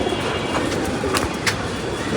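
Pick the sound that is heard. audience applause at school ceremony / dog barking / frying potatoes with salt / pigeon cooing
pigeon cooing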